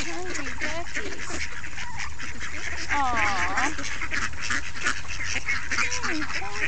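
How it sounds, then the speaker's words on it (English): Hungry ducks quack and honk nonstop close by, their calls overlapping in a busy, loud flock, with a voice talking over them. "Oh, they're very hungry duckies."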